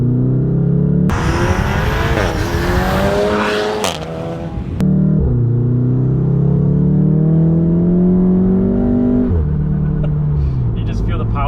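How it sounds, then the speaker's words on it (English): A 500 hp stage 3 VW Golf R with an upgraded turbo accelerates hard through the gears, its engine note rising loudly inside the cabin with clear shifts between climbs. "You just feel the power delivery. That turbo just pulls you so hard up top."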